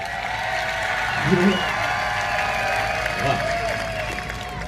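Applause from a crowd at a Hindi poetry gathering in Gulabpura, a steady wash of clapping with a couple of brief swells, over sustained music.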